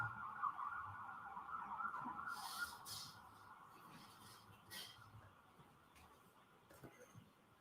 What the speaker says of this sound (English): If you could wait, Mr. Wolk, until the sirens pass.